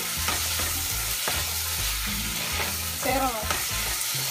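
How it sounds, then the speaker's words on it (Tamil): Dried anchovies (nethili karuvadu) fry in oil with masala, giving a loud, continuous crackling sizzle with repeated stirring scrapes close by. "இப்போ அதை போட்டு நல்லா இந்த எண்ணெயில் கருவாடு நல்லா வெந்துடணும்"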